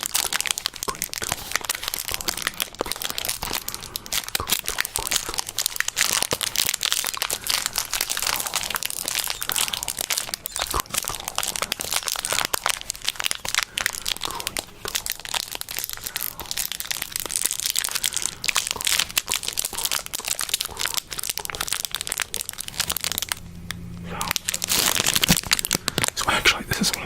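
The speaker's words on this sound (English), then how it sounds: "Do some soft crinkle sounds." A small plastic Temu item is crinkled softly and continuously up close in an ASMR session, with a quiet voice speaking over the rustling.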